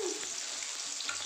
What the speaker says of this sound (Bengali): আমি মাছগুলো কড়া করে একটু ভেজে তুলে নিই।